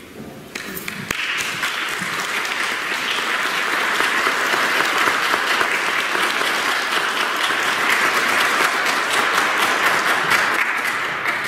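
A church congregation applauds steadily for about eleven seconds after a brief quieter moment at the start, the dense clapping filling the room at an even level.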